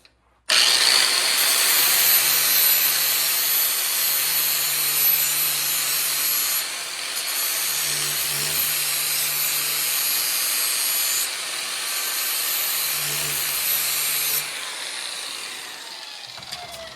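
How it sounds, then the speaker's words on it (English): An angle grinder sharpens small-engine lawn mower blades clamped in a vise, a loud, continuous, high-pitched grinding whine held close up that wavers slightly through a few passes. "take your angle grinder"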